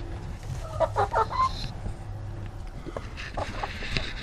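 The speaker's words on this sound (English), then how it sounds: "Ah, chickens." Chickens clucking inside a chicken house on a ranch, a burst of several close clucks and calls early on, then quieter scattered clucking over a steady low background hum.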